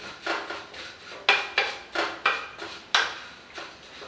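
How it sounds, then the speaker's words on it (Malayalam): Semiya vermicelli roasting in ghee in a pan, heard as a steady series of about ten scraping, clinking strokes of a utensil against the pan, roughly two per second, close and clear. "പായസത്തിന് നെയ്യിൽ സേമിയ വറക്കുക."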